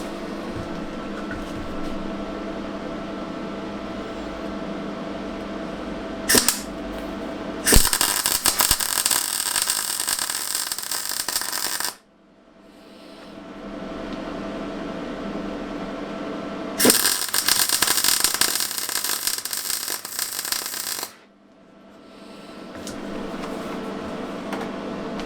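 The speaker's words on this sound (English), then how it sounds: "So let's weld these on." Welding of small metal pieces onto a drift car's relocated battery mount, two sustained bursts of loud crackling hiss a few seconds each, separated by a steady background hum.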